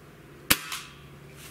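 A Gamo Hornet Maxxim .177 air rifle fires once outdoors at a 40-yard target, a single sharp crack followed a moment later by a fainter secondary snap, with no voices.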